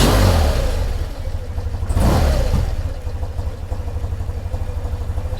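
A warmed-up 1993 BMW R100GS motorcycle engine runs close by with a steady, lumpy pulsing beat, briefly blipped louder before settling back into an even rhythm.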